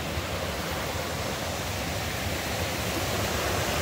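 Erie Canal Forestport Feeder water pouring into the LansingKill in Boonville Gorge, a dense, unbroken roar of falling water, steady and enveloping with deep low rumble, no voices.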